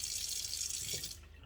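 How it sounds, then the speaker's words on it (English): Water running from a tap into a stone molcajete to rinse it, a steady close hissing splash that cuts off near the end. "So I'm going to just put a little bit of water in it"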